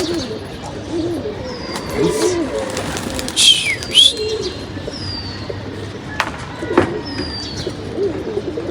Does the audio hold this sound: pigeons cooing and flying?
yes